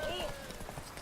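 Horse hooves clip-clop briefly in The Witcher 3 game, a quick run of hoofbeats layered under a voice and tonal game sounds.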